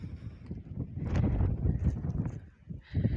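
Strong storm wind gusting at Mangla Dam, a steady loud roar of rushing air and microphone buffeting that swells and dips throughout.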